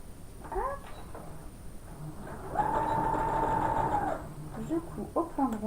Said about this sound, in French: j'épingle et je passe à la machine